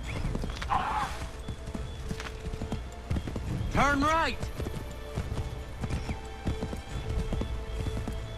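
A horse gallops in the video game Assassin's Creed 3, rapid clip-clop hoofbeats running steadily throughout with a shrill whinny in the middle, while a person speaks briefly over it.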